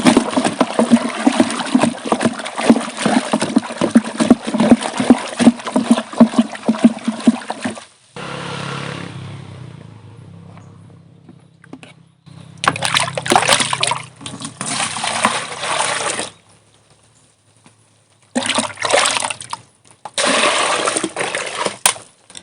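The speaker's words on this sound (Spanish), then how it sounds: "ahora voy a aplicar agua y hay que mezclar bastante bien para que se integren los dos" Water is poured and stirred to mix fertilizer in a garden, with a splashing, rippling flow for several seconds, then quieter handling and further bursts of pouring water close by.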